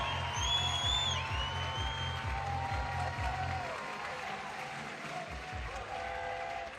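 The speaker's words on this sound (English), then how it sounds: "We hear the cheering again. It's amazing that cheering, isn't it?" Crowd cheering at a World Climbing Series lead final in Chamonix, a broad sustained roar filling the arena with an anthem-like tune and rhythmic low pulses running beneath, steady and loud throughout.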